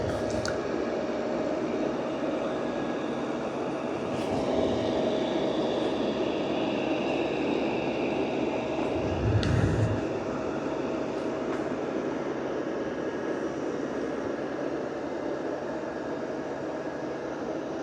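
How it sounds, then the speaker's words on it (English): A Shark robot vacuum and mop combo running without its mop pad, a steady close motor whir and brushing hum throughout, with a few bumps and rattles as it drives across the floor. "it's going to travel over to this room and start vacuuming it without its mop pad installed"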